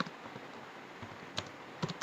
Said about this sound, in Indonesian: biar saya bisa mengetik biografi saya di bagian sini